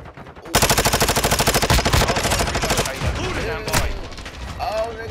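Rapid automatic gunfire in Call of Duty Modern Warfare II, a dense, loud burst of rhythmic shots for a few seconds that thins into scattered shots, an explosion-like swell and lingering game effects.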